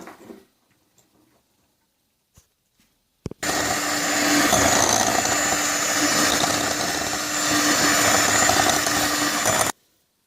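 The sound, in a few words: electric mixer whipping butter with sour cream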